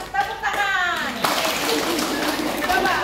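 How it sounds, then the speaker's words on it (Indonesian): One sharp hand clap rings out amid voices during a hands-on teaching session with a young autistic child, sitting close and crisp over ongoing speech from an adult and a child. "Tepuk satu kali"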